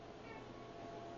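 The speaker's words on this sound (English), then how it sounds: "what's that cat? Was there a cat? Do you have a cat?" A pet cat meows, faint and somewhat muffled, beneath a steady background hiss, with no talking.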